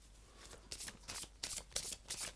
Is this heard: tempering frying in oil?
no